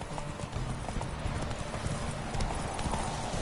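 Roach, Geralt's horse in The Witcher 3, galloping in a race, with a steady rapid clip-clop of hooves over background game ambience, moderately loud and continuous.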